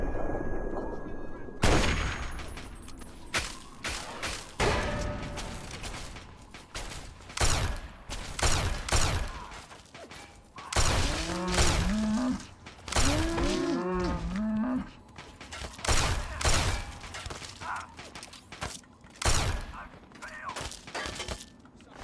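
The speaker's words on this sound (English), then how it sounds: "Nice shooting, Butch." Gunfire in the video game Fallout 3: repeated sharp shots in bursts across the span, mixed with game creature calls and effects, fairly loud with no talking.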